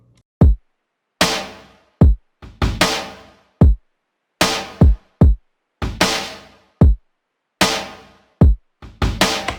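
A hip-hop beat with a punchy Murda kick drum sample landing repeatedly among snappy layered snare hits, the pattern looping in a steady rhythm with brief gaps between hits.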